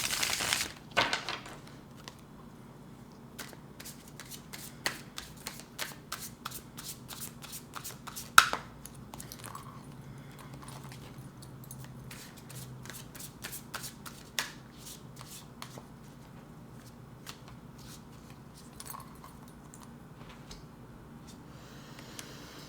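Tarot cards being shuffled by hand, a long run of quick papery riffles and soft clicks in uneven bursts, close and fairly quiet, with a sharper snap partway through.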